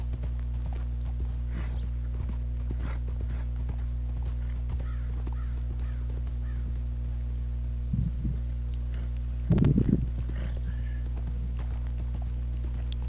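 Soft, rhythmic horse hoofbeats in a video game clip-clop steadily over a constant low hum, with a couple of louder thuds toward the end.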